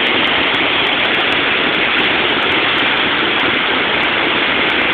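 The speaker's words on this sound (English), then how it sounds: "This is the Oahe Spillway." Flood water roars through the Oahe Dam spillway during the 2011 flood, a loud, unbroken rushing wash close by with no voices.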